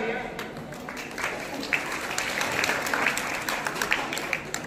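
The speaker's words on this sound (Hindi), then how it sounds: "एक बार जोरदार तालियां" Applause from the audience at a student organisation's award ceremony in Gola Gokarannath, Lakhimpur, steady clapping that fills the hall under a speaker's amplified voice.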